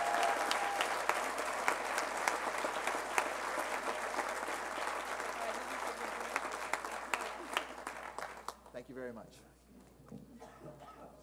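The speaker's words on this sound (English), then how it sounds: "So let's give them another round of applause." School audience at St Andrew's awards night applauds, sustained clapping that tapers off toward the end before a speaker's voice takes over.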